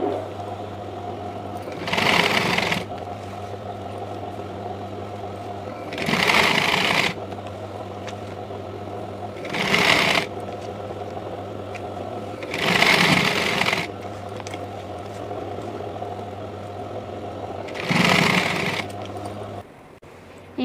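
A sewing machine stitches a long cotton frock in five short bursts of rapid mechanical whirring, each a couple of seconds long, separated by a steady low hum and quiet pauses.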